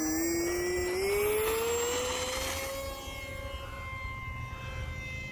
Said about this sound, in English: That was a smooth takeoff